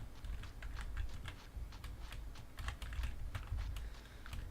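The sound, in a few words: key clicks of a membrane computer keyboard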